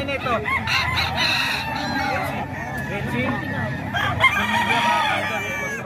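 A rooster in Tondo crows repeatedly at close range over the babble of a chattering crowd.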